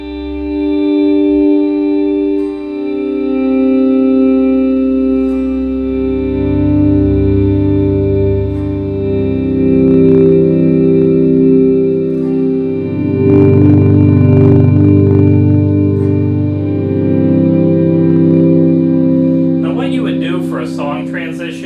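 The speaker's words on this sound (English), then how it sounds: "I've got it set for just a normal room reverb with not a lot of pre-delay" Sustained electric guitar volume swells ring out through a normal room reverb with little pre-delay, a spacious, reverberant tail, loud and layered, with a few plucked notes near the end.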